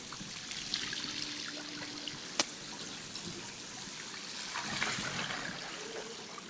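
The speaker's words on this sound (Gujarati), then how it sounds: "જો તમે જોઈ શકો છો ગટર જે ખુલી ગઈ છે એટલું પાણી વહી જાય છે અહીંયા" Rainwater rushes and trickles into an open street drain on a flooded road, a steady broadband wash of flowing water with a brief sharp click partway through.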